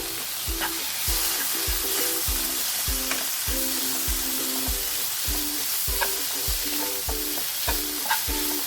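Finely chopped tomato and green chilli fry in a pan for a green peas curry, a soft steady sizzle punctuated by regular rhythmic scraping knocks of a spoon stirring, close and moderately quiet.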